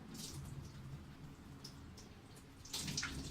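Water streams out of a hole near the bottom of a bottle, making a faint, steady trickle with a few small splashes. The splashes grow a little louder toward the end, with no talking.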